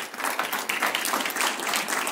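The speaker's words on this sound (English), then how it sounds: "there's a crew over here I want to just give a clap to" Short burst of applause for a behind-the-scenes casino team at a sportsbook compact signing ceremony in St. Croix, a crowd clapping briskly and evenly at moderate distance.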